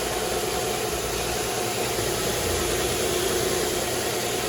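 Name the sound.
2005 Nissan Altima engine idling, AC compressor pulley free-spinning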